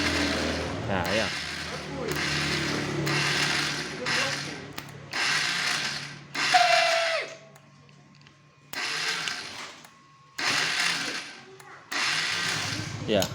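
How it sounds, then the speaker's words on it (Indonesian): The starter motor of a Honda Verza 150 motorcycle, jumpered straight from the battery, spins and slips in a run of loud, whirring mechanical bursts about a second long, separated by short silences. "Ya, suaranya itu seperti ngelos, ser ser ser gitu ya"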